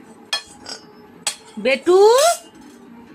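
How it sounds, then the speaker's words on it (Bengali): A child bangs a metal spatula against a wok in a home kitchen, giving a few sharp scattered clanks and then a longer ringing scrape, close by, with a voice in between. "এখন কড়া খুন্তি টুন্তি নিয়ে পড়েছে"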